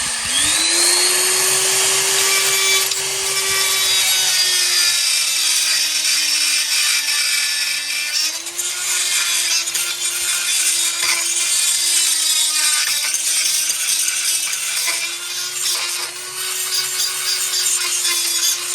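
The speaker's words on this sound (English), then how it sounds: "So just tidy that up with the burr and we're good." A rotary burr grinds down the cut edge of a car's metal frame rail during repair work, giving a steady, loud, high-pitched whine with a droning tone that holds through the whole clip without a break.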